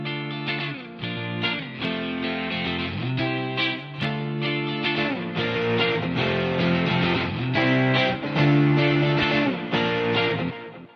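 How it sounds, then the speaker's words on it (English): Twangy electric guitar on the bridge pickup through a tape echo, playing a steady strummed pop part with repeating echoes trailing each chord. "I believe I played this with the bridge pickup instead, and then we've just got a nice little tape echo also on this"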